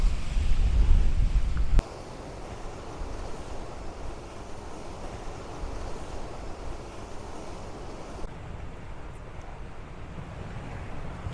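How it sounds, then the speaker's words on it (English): Wind and sea waves wash onto the shore at Costa de Antigua. A loud gust buffets the microphone for the first two seconds, then the surf settles into a steady, continuous roar with the wind blowing underneath. "That wind's picking up a bit, and so's the waves."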